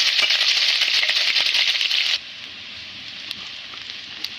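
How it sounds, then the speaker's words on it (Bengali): Chopped onion and green chilli hit hot oil in a pan with a loud, dense sizzle and crackle that drops sharply halfway through to a quieter, steady hiss. "তেল গরম হলে দিয়ে দিচ্ছি পেঁয়াজ কুচি ও কাঁচা মরিচ কুচি।"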